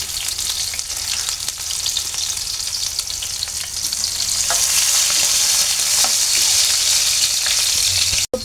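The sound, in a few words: onion and chili frying in oil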